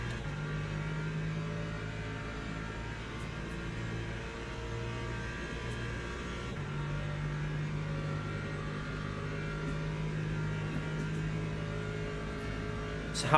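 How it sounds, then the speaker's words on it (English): An LMP2 prototype race car in Le Mans Ultimate, its engine droning steadily at moderate volume alongside the player car's engine hum, with gear-like pitch steps and no clear sharp pass-by. "Oh, here comes an LMP2."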